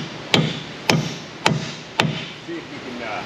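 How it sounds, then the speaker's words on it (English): Four evenly spaced sharp metallic hammer blows drive a socket onto a rusted strut bolt on a Honda, each strike ringing briefly, followed by a faint knock. "I'm gonna have to hammer my socket onto the bolt."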